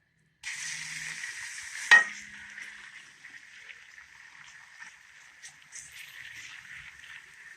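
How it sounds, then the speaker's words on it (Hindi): Chopped onions sizzle in hot oil in a kadai, a steady frying hiss that starts loud with a sharp splash-like burst as they hit the oil, then settles into a softer, continuous crackle. "ऑयल के अंदर हमने अच्छे से प्याज को सौते करना है।"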